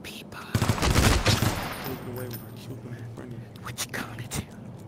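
Gunfire from a PS VR2 shooter game, Alvo, heard as loud overlapping bursts and rapid volleys, with voices speaking over the shots.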